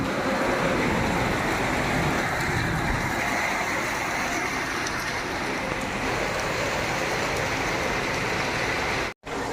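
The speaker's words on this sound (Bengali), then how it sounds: "জোরদার বৃষ্টি পড়ছে এখন" Heavy rain driven by strong wind pours down outside a home, a loud dense roar with gusting swells that holds steady for several seconds before a sudden brief cut near the end, with no talk.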